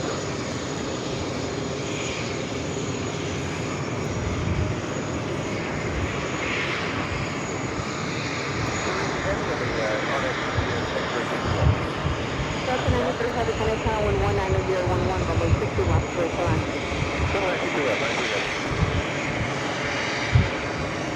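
A Boeing 777-300ER airliner arriving at JFK airport from Madrid gives a sustained, broad jet roar that swells and drifts as it passes, with other airport noise and talk underneath.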